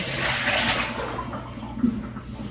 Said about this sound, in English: I'm going to pour this water out my sink